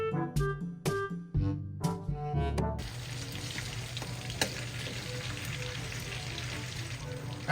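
Chicken fries in oil in a pan. A dense, steady sizzle takes over after a few seconds of louder, tonal clanks and knocks at the start, and it continues unbroken close by.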